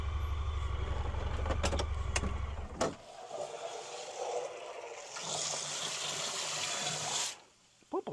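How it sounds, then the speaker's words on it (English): A farm water pump runs with a loud low rumble for about three seconds, then cuts off, followed by gushing, splashing water filling a pig feed container, fairly close. "Pump will sling some water now."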